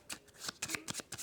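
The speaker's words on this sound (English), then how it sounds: "Shuffling up" Cards for the board game Mysticana: Realmseekers get riffled and shuffled in several quick, close bursts, soft papery flutters separated by brief pauses.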